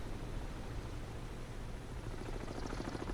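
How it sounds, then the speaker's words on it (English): A helicopter in the submarine video game Cold Waters gives off a steady, dense rotor and engine roar that fills the short stretch evenly, with no speech. "Just the one helicopter?"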